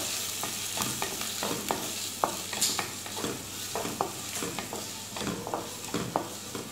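Finely chopped onion sautéing in hot sunflower oil in a pan, a steady close sizzle broken by repeated stirring scrapes and clacks throughout, with no voices.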